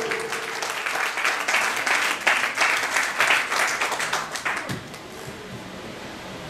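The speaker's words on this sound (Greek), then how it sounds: "Ηλιάδης Γιώργος, ένα χειροκρότημα." Audience applause at a company anniversary awards ceremony, a steady wash of many hands clapping for about five seconds before thinning out into quieter room noise.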